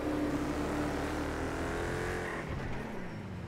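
A stolen celebrity supercar's engine in GTA V roars at high speed, a sustained whining drone that dips slightly toward the end; no talking.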